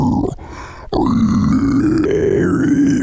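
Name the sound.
voice growl through Maonocaster AME2 mixer pitch set to lowest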